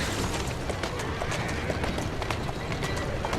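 Horse hooves clip-clop steadily at a gallop in Assassin's Creed Syndicate, close and continuous, with an occasional neigh over the busy game soundscape.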